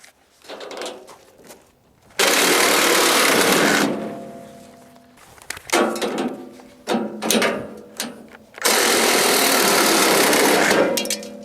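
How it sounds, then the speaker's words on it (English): A power saw cuts through the metal cage of an IBC tote in three loud, sustained, high-pitched bursts of cutting, with shorter rattling, ratcheting passes and pauses between them. "Now I'm gonna cut it off even with this riser."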